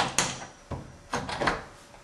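Metal hinge pin knocked loose and pulled from a door hinge, giving a few sharp metallic taps and scrapes spaced across two seconds, close and fairly quiet.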